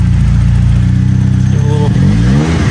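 A BMW E36 with an M42 engine runs loud and close, a steady throbbing idle that climbs into a brief rev before settling back.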